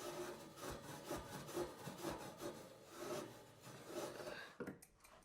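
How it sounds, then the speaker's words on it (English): Wire wool scrubs a copper radiator pipe clean after soldering, giving a quiet, close rasping and rubbing in rapid back-and-forth strokes that stops near the end, with no talk. "clean the pipe with wire wool"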